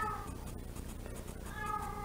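A cat meows in a few drawn-out, complaining cries, close by and fairly clear over a low background hum.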